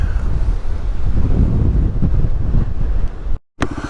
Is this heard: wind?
yes